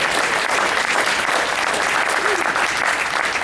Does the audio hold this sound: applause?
yes